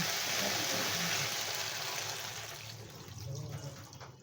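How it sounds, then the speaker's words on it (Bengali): Water poured into a pot of shukto curry, a loud, steady splashing gush that fades briefly and then swells again before ending, heard close with no talk over it. "এখন এতে আমি পরিমাণ অনুযায়ী জল দিয়ে দেব"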